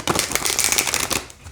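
A large oracle card deck being shuffled by hand, with a dense run of papery riffling and flicking close up, steady over a second and a half with no talk.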